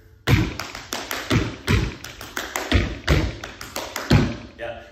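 Rhythmic stomps and taps from step dancers hitting the floor during a We Will Rock You choreography, a steady run of loud, close thuds in a quick repeating pattern.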